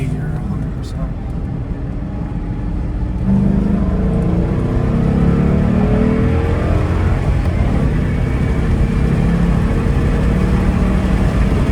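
A 2009 Mustang GT V8 pulls hard from second gear onto a highway in Mexico, a loud in-cabin engine drone that rises and holds steady, with voices talking over it.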